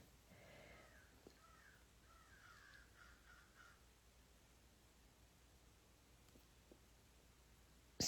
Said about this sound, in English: those crows are having like a little get together